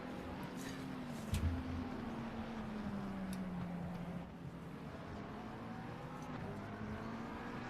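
Onboard engine of a McLaren race car at the Hungarian Grand Prix, droning steadily in fourth gear at around 102 mph with a slight pitch shift midway, heard moderately loud with faint track noise around it.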